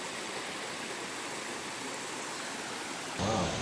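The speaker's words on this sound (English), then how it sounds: "you get to see a beautiful waterfall site right here" Akaka Falls in Hawaii roars as a steady, dense rush of falling water, a broadband wash that holds constant throughout, with a slightly louder burst near the end.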